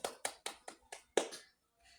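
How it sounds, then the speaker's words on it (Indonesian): Six sharp, evenly spaced hand claps ring out close and fairly quiet, the last one slightly louder, then stop, with faint room sound at the very end. "tepuk tangan dulu dong untuk Mbak Mulyani SKM."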